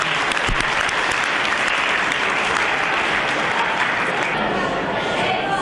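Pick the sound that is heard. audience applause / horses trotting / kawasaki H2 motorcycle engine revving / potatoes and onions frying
audience applause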